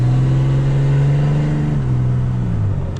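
An inline six Cummins diesel in a solid-axle truck pulls hard under acceleration, its loud, droning engine note climbing steadily before dropping as the revs fall, heard close from inside the cab.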